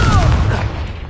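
Confringo fire spell cast in the Hogwarts Legacy video game, a loud close explosive burst with a deep rumbling boom that decays over about a second.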